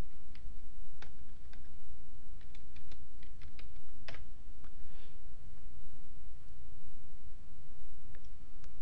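Computer keyboard typing in short bursts of crisp, close key clicks with irregular pauses, a steady low hum underneath and no talking.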